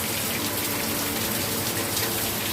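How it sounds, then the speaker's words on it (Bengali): Heavy rain roars down, a loud unbroken wash of falling water close by. "দুপুরবেলায় ঝমঝম করে বৃষ্টি চলে এসছে।"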